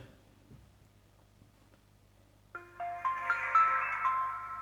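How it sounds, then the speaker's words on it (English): After a quiet stretch, a Samsung-style startup chime rings out from a No.1 S3 smartwatch: a short, bright melodic jingle with layered electronic tones. "it's got the Samsung boot sound"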